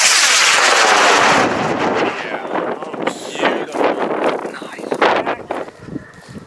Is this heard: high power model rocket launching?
yes